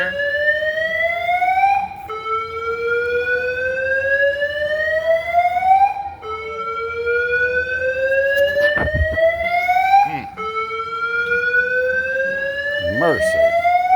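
Fire alarm in a Honolulu airport terminal, a loud rising electronic whoop that sweeps upward over about four seconds and repeats continuously, with faint voices and brief clatter underneath.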